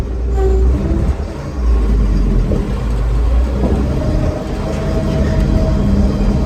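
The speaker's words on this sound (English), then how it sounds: "this is the Magnum V6, the 401 V6 gasser" A truck's Magnum 401 V6 gasoline engine, not the original engine, runs loud and steady with a constant low rumble and road noise while the truck is driven, with no talk over it.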